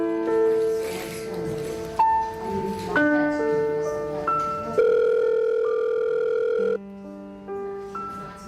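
A telephone ringtone plays as a melody of sustained electronic tones that step from pitch to pitch, loud and close, with no one talking.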